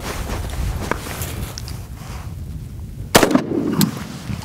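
A single loud, close 7.62 rifle shot fired at a 70-inch flat screen TV cracks out after a stretch of quiet background, followed by a brief rattling clatter.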